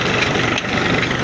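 A 1988 Massey Ferguson 240 tractor engine runs steadily nearby, a dense loud rumbling drone with no voices.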